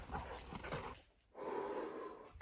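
Dogs at play pant and snort close to the microphone in a short burst, followed by a brief quiet gap and then more breathy snuffling.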